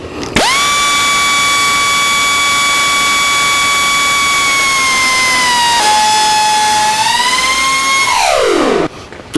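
A power tool cuts the threads off a steel stud, a loud steady high-pitched whine held for several seconds before the pitch shifts and winds down at the end, no voices.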